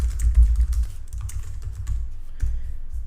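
Rapid keystrokes on a computer keyboard, a steady run of close, fairly loud clicks with a brief pause near the middle, no voices.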